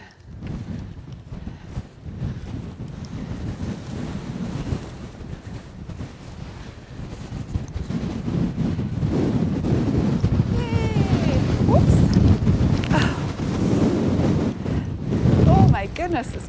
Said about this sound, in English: But I wasn't expecting it to be so windy.